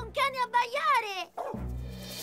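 A dog barks several times in quick succession, close and loud, followed by a lower sustained sound.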